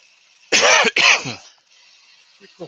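Two loud, close coughs in quick succession from a woodturner breathing yew burr dust while turning a bowl on the lathe, with a faint throat noise trailing off over quiet workshop hum.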